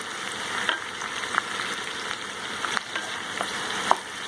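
Onions sauté in hot oil in a pan for Punjabi-style bhindi, a steady close sizzle with occasional light pops and stirring scrapes.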